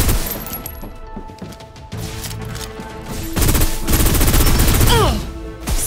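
Gunfire in the Snowbreak Containment Zone video game, a desert camp firefight with bursts of suppressive fire, loud and close, building into a dense sustained barrage in the second half over a busy game soundtrack.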